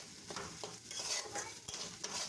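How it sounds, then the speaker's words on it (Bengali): Spices and dried fish being stir-fried in a pan for a taro stem curry, a soft continuous sizzle under repeated scraping and clinking of a spoon against the pan. "মশলাটা আগে শুটকির সাথে ভালো করে কষাই নিই"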